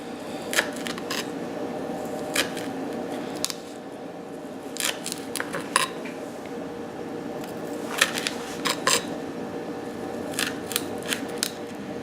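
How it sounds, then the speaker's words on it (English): A kitchen knife cutting basil leaves into very fine slices on a board, a series of crisp, sharp cutting strokes spaced irregularly over a steady low background hum, close and fairly clear. "slice very fine slices of the basil leaves"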